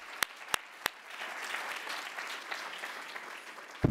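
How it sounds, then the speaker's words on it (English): Faint, distant applause for the judges at a university Three Minute Thesis competition, a soft, scattered patter of clapping after a few sharp clicks, ending in a louder knock. "a round of applause for our judges, too, again, for their time and attention."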